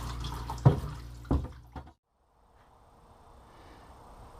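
Hot water in a laundry room sink: a few close, hollow knocks and splashes over about two seconds, then a pause and a soft, steady trickle of running water.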